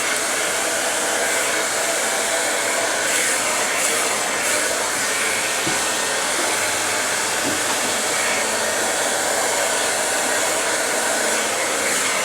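A hair dryer blows steadily and loudly in a salon while hair is blow-dried, a continuous broadband whoosh with slight shifts as it moves, no talking.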